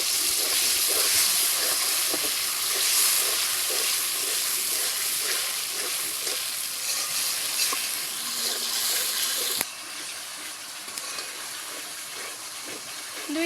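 Ground tomato sizzling with spices in a pan for a vegetarian chickpea curry, a steady loud hiss throughout that drops slightly in level partway through.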